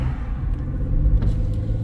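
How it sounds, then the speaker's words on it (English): A car driving through city streets in Cyprus, a steady low engine and road rumble from inside the cabin, close and continuous with a slight swell midway. "right now I'm driving back home"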